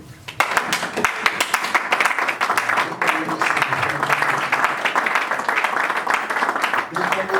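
A church congregation claps steadily in praise of the Lord during an evangelistic service, a dense, continuous patter of many hands that runs throughout while a voice keeps speaking over it.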